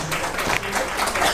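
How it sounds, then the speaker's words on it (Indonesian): Brief burst of audience applause at a meeting hall gathering, a dense clapping wash lasting about a second with some voices mixed in. "Tepuk tangan sekali lagi dong, Bang Marwan."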